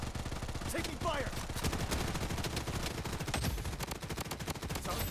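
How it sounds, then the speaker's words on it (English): Rapid gunfire in the video game Blood Strike, with dense bursts of shots crackling steadily at moderate volume and game voice lines over them. "Taking fire."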